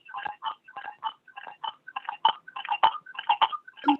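Telephone dialing tones on an unmuted conference call, a rapid series of short beeping key tones in irregular clusters, fairly faint and with no speech.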